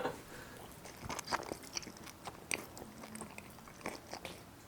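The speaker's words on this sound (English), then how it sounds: "I just want some ASMR of him chewing right now." Someone bites and chews crunchy cacao nibs close up, giving a string of uneven crisp crunches and wet mastication sounds with no talking.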